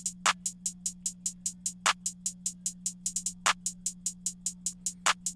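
A rage-style drum loop plays alone: a fast run of crisp hi-hat ticks pulses evenly over a steady low tone, and a Foreign Tech bear clap lands on a few of the beats.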